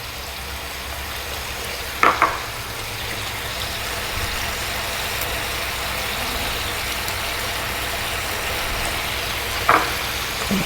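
Sliced onion rings fry in a pan for pork bistek, giving a steady, close sizzle that runs throughout, broken by two brief clinks of a utensil.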